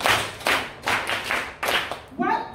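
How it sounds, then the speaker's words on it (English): An audience at a school-management talk claps in a rhythmic group pattern, several sharp, loud bursts of hands landing together in quick succession, with a voice speaking briefly at the end. "Give yourself a super clap."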